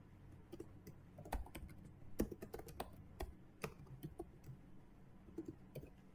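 A command is typed on a computer keyboard at a Windows terminal. Soft, close key clicks come in quick irregular bursts with short pauses, alone and quiet.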